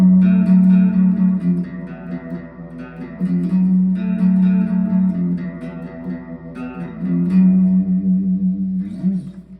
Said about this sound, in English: it's basically just reverb with a wobbly effect in the background